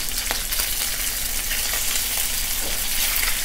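Chicken pieces for tallarín saltado frying in a hot pan with oil, a steady dense sizzle heard up close throughout, no talking.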